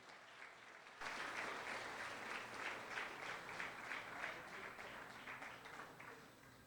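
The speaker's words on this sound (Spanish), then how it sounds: "Dele una ofrenda de aplauso al Señor." A church congregation breaks into applause during a worship service, with dense, sustained clapping from many hands that starts abruptly and continues steadily, without speech.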